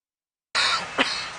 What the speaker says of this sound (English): Coughing, sneezing, wheezing.